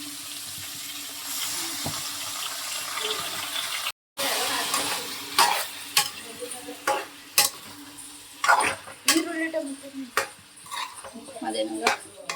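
Food is stirred and fried in a pan in a home kitchen. A spoon clatters and scrapes against the pan in irregular bursts over a low sizzle, and a brief silent gap comes partway through.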